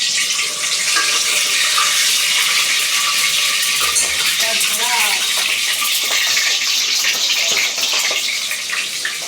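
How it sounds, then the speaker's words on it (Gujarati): Chilies fry in hot oil for tempering chana dal, producing a loud, dense, unbroken sizzle close at hand, with a faint voice briefly in the background. "એટલે થોડાક મરચાં તરી લઉં, ત્યારબાદ વઘારી નાખશું દાળ."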